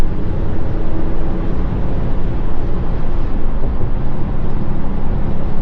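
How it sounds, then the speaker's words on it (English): A 2025 RAM 3500 hotshot diesel truck with 360 horsepower and an 8-speed transmission, driving with its exhaust brake engaged. It gives off a steady, loud low rumble throughout, with road and wind noise blended in. "Let me turn on the exhaust brake, too."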